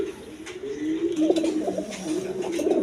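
A group of high-flying pigeons coos in soft, rolling phrases that swell and dip, close at hand, with a few brighter bird calls mixed in and no voices.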